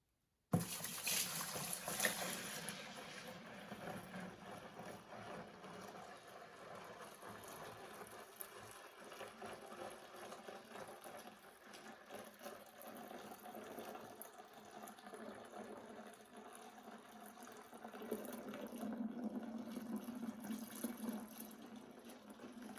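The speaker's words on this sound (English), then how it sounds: "I'm going to dump it in to the fermenter here" Cooled homebrew Russian imperial stout wort pours into a fermenter as a steady, faint splashing rush of liquid that runs continuously, close by and alone.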